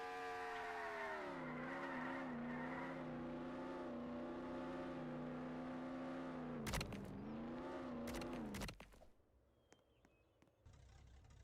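A car in Roblox Jailbreak hums with a steady engine drone that shifts pitch as it drives, then sharp tire skids cut in before the engine drops away to near quiet with small clicks.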